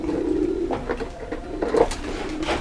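A light brown pigeon gives soft, repeated low cooing calls, close by, over a murmur of background noise.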